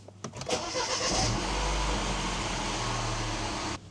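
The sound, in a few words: R56 Mini Cooper S JCW engine starting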